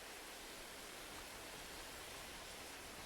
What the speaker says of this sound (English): gonna blow all of that out and clean the rest of the vehicle and the log trailer